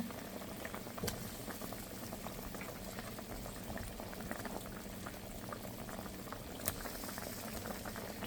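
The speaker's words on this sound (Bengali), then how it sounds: "বলক এসে গেছে" A sour fish and mango curry bubbles at a rolling boil, with continuous quiet gurgling and popping and a couple of sharper clicks.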